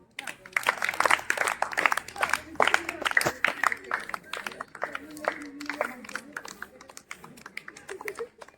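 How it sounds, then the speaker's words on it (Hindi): A group of people clapping their hands during a Post Office game, an uneven patter of claps with fast irregular rhythm, mixed with a murmur of voices. "ताली शुरू करो"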